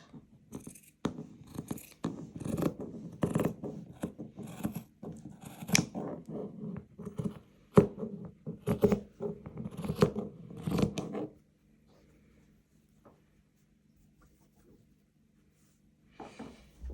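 Scissors snipping through velvet fabric while shaping a blouse neckline, a run of quick close crisp cuts and rustles for about eleven seconds, then near silence with a faint handling sound at the end.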